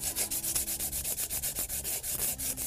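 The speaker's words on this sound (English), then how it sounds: "I'm basically just prepping the metal by abrading it, cleaning it, and putting it in the jig so the welding surface is clean." Steady rhythmic abrasive rubbing on a metal bicycle bottom bracket shell being prepped for welding, back-and-forth strokes repeating evenly about four times a second, close and fairly loud with no voices.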